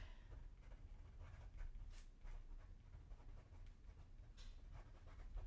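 A dog pants nearby during a watercolor swatching session, with quick, soft, breathy pulses against a faint room hush and the occasional scratch of a pen writing.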